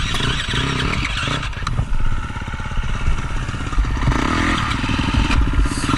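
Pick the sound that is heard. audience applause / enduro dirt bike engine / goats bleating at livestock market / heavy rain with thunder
enduro dirt bike engine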